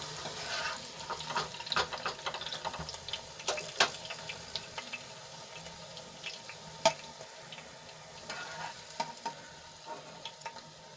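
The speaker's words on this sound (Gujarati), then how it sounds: "આપણા રીંગણા પચાસ ટકા જેટલા સંતળાઈ ગયા છે" Brinjal fries in oil with a faint, steady sizzle, broken by frequent scraping and clicking from stirring with a utensil, close and quiet, with no talking.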